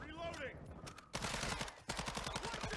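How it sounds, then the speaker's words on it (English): Rapid automatic gunfire from a teammate in Call of Duty: Modern Warfare, a sudden dense burst of shots, a brief break, then another quick volley, close and sharp, with faint game chatter beforehand. "My teammate was just shooting at me."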